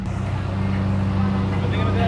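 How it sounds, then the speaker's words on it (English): A Lamborghini SV Roadster supercar engine roars loud and steady at an event, with someone talking over the deep rumble. "Here we have the loudest car of the event, the SV Roadster."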